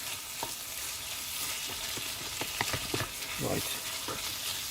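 Mince curry with raisins bubbling and sizzling in a pan while van camping, a steady close hiss with a few soft clicks and knocks of utensils; one brief word is spoken.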